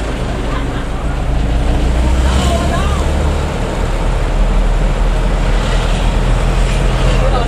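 An Isuzu Elf minibus engine idles with a loud, deep, throaty aftermarket exhaust rumble that stays steady throughout, close by.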